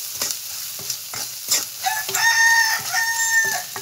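Turmeric and chili stirred into hot frying oil for a dried-fish curry with elephant foot yam, giving a steady close sizzle with repeated scraping strokes of a spoon against the pan, while a rooster crows in the background.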